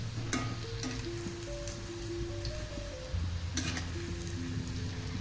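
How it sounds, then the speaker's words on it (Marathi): Onion fritters sizzle steadily in hot oil, a constant crackling hiss with a couple of brief louder spatters, no voices. "आता आपलं भजी ही तेलामध्ये व्यवस्थितरित्या भाजत आलेला आहे"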